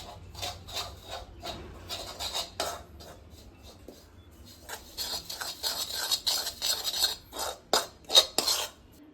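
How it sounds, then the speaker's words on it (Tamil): A spoon scrapes and stirs prawn biryani masala in a pan, with repeated close scraping and clinking strokes that build louder toward the end. "இதை நல்லா மிக்ஸ் பண்ணிடலாம்."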